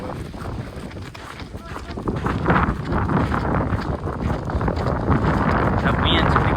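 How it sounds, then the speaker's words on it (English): Winter storm wind in Middle Tennessee near Nashville, gusty buffeting roar against the microphone that builds and stays strong, with voices speaking under it. "That wind's picking up."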